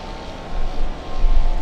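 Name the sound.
plane taking off at LAX airport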